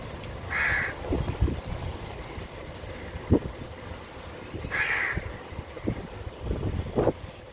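A young crow caws loudly in two harsh, strained bursts a few seconds apart, out in the open by the sea, with wind and rumbling surf underneath.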